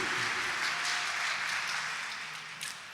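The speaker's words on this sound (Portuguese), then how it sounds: "Brada uma salva de palmas para ele." A congregation in church applauds a speaker with dense, steady clapping that fills the room and fades slightly toward the end.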